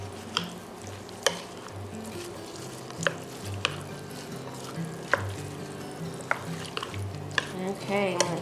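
Cowboy caviar being tossed with Italian dressing in a bowl, wet squelching stirs and sharp spoon clicks against the side repeating at an uneven pace, close and fairly quiet with no talking.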